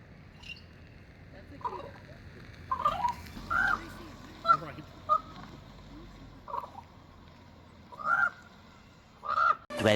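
Raven near a highway in Juneau, Alaska mimicking several other birds, giving a series of short, varied croaks and calls scattered irregularly over a low background, some louder bursts near the end.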